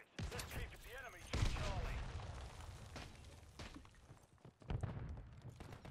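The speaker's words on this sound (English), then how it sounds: "We got a little sentry gun action." A sentry gun in Call of Duty: Modern Warfare III fires a few sharp bursts and pops amid game noise, with someone talking over the action.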